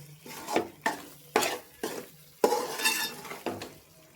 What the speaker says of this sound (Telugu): ఇప్పుడు ఒక టీ స్పూన్ గరం మసాలా వేసుకోండి బాగా కలుపుకోండి